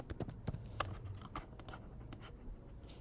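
Typing on a computer keyboard while entering text in a Figma web design, a quick, uneven patter of close, crisp key clicks heard alone at moderate volume.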